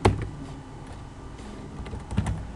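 Rapid, steady keystrokes on a computer keyboard while code is typed, close and dry, with a few louder clacks and no voices.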